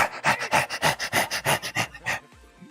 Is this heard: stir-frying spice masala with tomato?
no